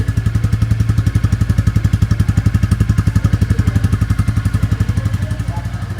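A 2023 Royal Enfield Bullet 350 motorcycle idles with the microphone near the exhaust, a loud, steady, rapid thumping putter that holds an even rhythm throughout.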